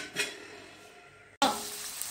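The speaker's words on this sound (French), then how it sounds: "Je fais revenir les oignons et l'ail et je reviens." Onions and garlic sauté in a pan, a close sizzle with a stirring scrape near the start, then a short break before the frying hiss resumes louder, no voices.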